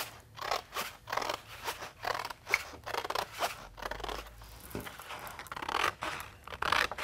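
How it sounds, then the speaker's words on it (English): Scissors snip through paper along a traced line for a lampshade panel, a steady run of close, crisp cuts repeating roughly every half second, heard alone. "And cut along the traced line that I made for myself."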